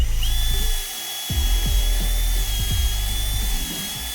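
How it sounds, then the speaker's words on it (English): A power drill with a 3/16 bit pre-drills holes for a stair rail installation, a loud, close, continuous whine with shifting, grinding load underneath. "3/16 drill bit here to pre-drill these holes"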